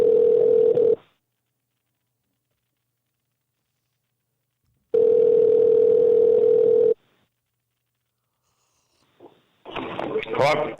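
Telephone ringback tone on an outgoing call: two long steady rings with a long silent gap between them, followed by a short burst of voices.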